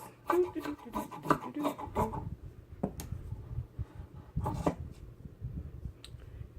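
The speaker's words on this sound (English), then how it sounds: "I'm gonna cut the bottom because I got all this excess fabric on the table" Scissors cut through excess shirt fabric on a table, giving a quick run of crisp rasping snips followed by slower, scattered cuts and rustling cloth.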